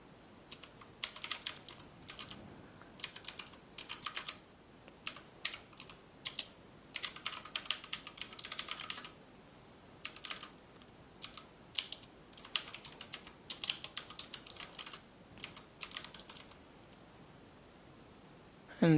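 Someone types a comment on a computer keyboard in quick bursts of clicking keystrokes separated by short pauses, close and fairly quiet, with no voices.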